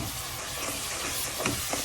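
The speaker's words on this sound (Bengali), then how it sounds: "তো মশলাটা আমি ভালো করে কষিয়ে নিচ্ছি টমেটো দিয়ে" Spice masala with chopped tomato frying in a pan, a steady close sizzle and hiss with small crackles throughout, no talking.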